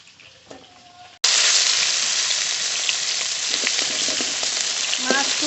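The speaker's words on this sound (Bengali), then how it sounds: "লেটা মাছ খুব কড়া করে ভাজতে হয় না একটু হালকা করে ভেজে নিতে হয়" Lata fish frying lightly in oil, a loud, dense sizzle that bursts in abruptly after a quieter kitchen moment and then holds steady, with small pops and spatters.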